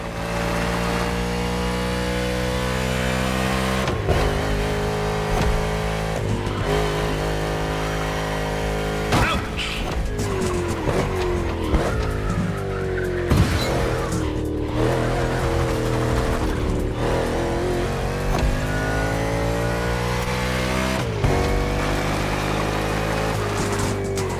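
A race car in The Crew Motorfest, on a Hawaii circuit, revs hard through repeated gear changes, its engine pitch climbing and dropping in sweeps, with tire squeals and sharp bursts breaking in over a loud, continuous roar.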